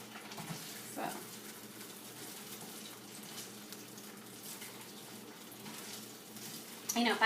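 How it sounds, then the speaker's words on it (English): Polenta pieces frying in a pan, a steady soft sizzle and crackle running throughout, close and fairly quiet, with a louder clatter at the end while someone talks over it. "So you can see it's frying up nicely"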